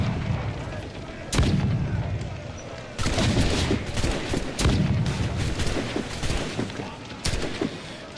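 Ship cannons boom again and again during a naval battle in Assassin's Creed IV Black Flag, with loud broadside blasts over continuous roaring battle noise.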